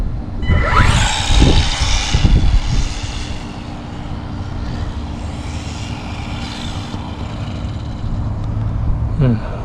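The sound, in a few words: Losi NASCAR RC car driving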